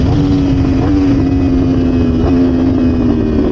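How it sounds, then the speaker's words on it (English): Yamaha R1 sport bike engine running loud and close, holding a steady droning note with slight wavering, as the faulty quick shifter cuts the ignition. "The quick shifter was killing the ignition"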